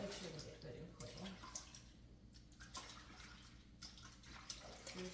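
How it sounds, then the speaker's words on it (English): Water splashing and sloshing as a Maine Coon cat sits soaking in a bath, with irregular swishes and drips close by, heard under intermittent talk. "I make them sit into the water because I really want to soak them up and make sure they get good and clean."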